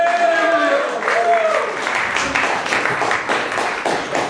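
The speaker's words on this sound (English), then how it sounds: "Round of applause for the godlike Sam." Audience applause in a small open mic comedy room, a steady burst of many hands clapping at moderate volume, with a voice and a few whistles over it at the start.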